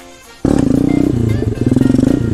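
A pit bike motorcycle being ridden, its engine snapping on loud and close with a rough, pulsing revving that rises and dips as the throttle changes, no voices.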